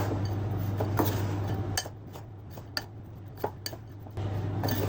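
A spoon clinks against a bowl while cocoa powder is stirred into a chocolate cake batter, giving scattered light taps and scrapes over a steady low kitchen hum.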